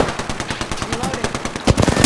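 Rapid automatic gunfire from the Apex Legends video game rattles in a fast, steady stream of sharp shots, with a few heavier bangs near the end.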